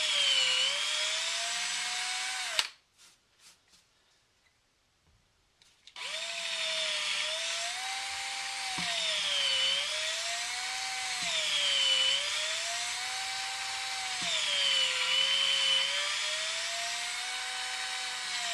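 Cordless power drill driving a 2-inch screw into a heavy wooden faceplate whines loudly and close, stops briefly, then resumes with a steady high motor tone that wavers up and down as the screw bites.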